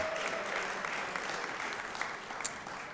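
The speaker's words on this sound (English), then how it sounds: "give her a round of applause" An audience claps in a sustained, even round of applause heard from a moderate distance.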